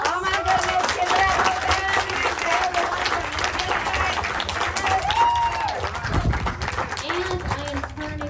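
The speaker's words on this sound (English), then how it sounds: "So one last round of applause." Audience applause at a 50th anniversary keynote gathering, a steady sustained wash of clapping with crowd voices and cheering mixed in throughout.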